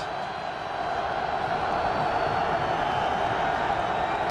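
A large stadium crowd at an NFL Wild Card playoff game between the Packers and Eagles keeps up a steady, distant roar that swells slightly, with a commentator's voice faintly underneath.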